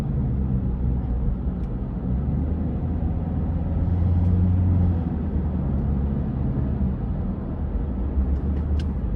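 A car driving in busy traffic, heard from inside as a steady, loud low rumble of engine and road noise that continues without a break, with no talking.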